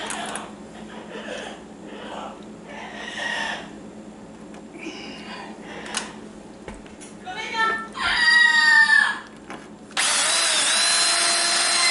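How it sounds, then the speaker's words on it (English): A power drill reams out a hole, whirring in short bursts, then running steadily and loudly at the end, with quieter sounds of handling before. "I'm using the drill to kind of Ream it out a little bit"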